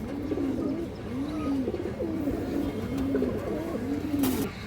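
A female Army breed pigeon coos close by in a regular, rolling rhythm, about five soft throaty coos in a row with no talking.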